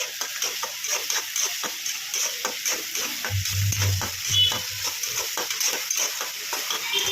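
Ingredients sizzle in a pan over a raised flame before poha goes in, with a steady frying hiss and a quick run of light stirring clicks and scrapes, close up and without voices.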